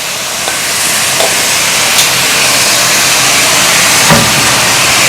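Cleaned crab pieces drop into masala frying in a pan for Chettinad crab gravy, giving a steady loud hissing sizzle with a few faint clicks and knocks, no talk.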